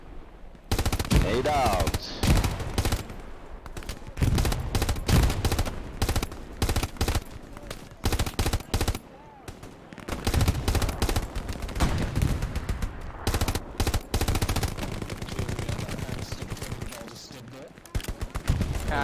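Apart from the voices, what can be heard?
suppressing machine gun fire in video game Hell Let Loose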